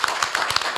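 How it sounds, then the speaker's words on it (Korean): Short burst of audience clapping as a webinar session on remote education closes, a handful of sharp, uneven claps rather than full applause, fairly close and without talk. "뭐 다 끝났으니까 한번 박수 한번 치실까요?"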